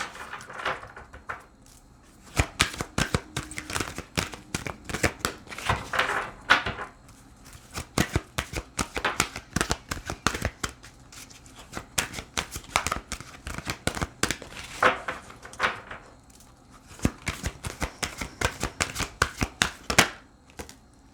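Tarot cards shuffled and drawn in rapid bursts of crisp riffling and snapping strokes, with brief pauses between bursts, close and fairly loud.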